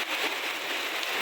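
Heavy daytime rain pours down in a steady, dense hiss of drops striking surfaces close by, unbroken and without any voices.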